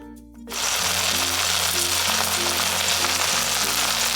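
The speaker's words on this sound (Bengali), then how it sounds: "মাছগুলোকে আমি মিডিয়াম টু হাই ফ্লেমের মধ্যে দিয়ে ভেজে নিচ্ছি।" Fish frying in hot oil over a medium-high flame: after a short quiet moment a loud, steady sizzle takes over and holds, with background music underneath.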